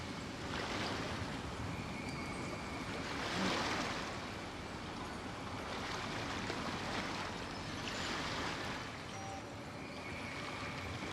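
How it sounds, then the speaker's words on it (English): Ocean waves washing in a steady, soft roar, with gentle swells surging about every two to three seconds, fairly faint and distant with no voices. "The sound of the ocean waves."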